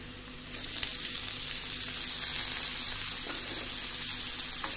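Tomatoes drop into golden brown onions frying in a pan for a fish curry, setting off a loud, steady hiss of sizzling oil that holds close and constant with no talk.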